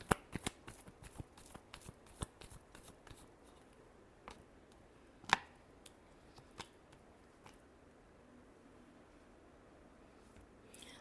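Tarot cards being shuffled by hand, a quick flurry of soft crisp riffles and taps that thins into a few scattered, faint snaps, heard alone in a quiet room.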